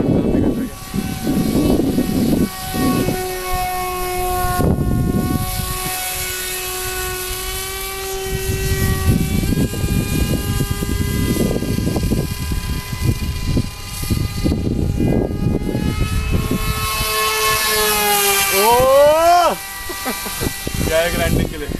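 A lipo battery-powered RC model MiG-21 jet flies overhead with a loud, steady, buzzing whine that swells and fades, then rises in quick pitch sweeps near the end as people talk over it.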